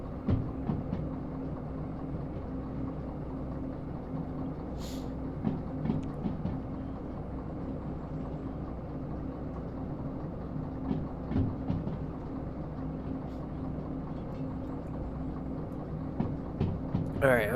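A DE2 diesel locomotive in the Derail Valley game rolls along the rails with a low steady engine rumble, intermittent wheel clicks and clanks, and a brief high squeal near the end.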